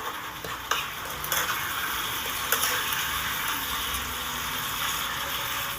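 Water is poured into spice paste frying in a pan, giving a steady bright sizzle with a few clinks and scrapes of a spoon stirring, close and without speech.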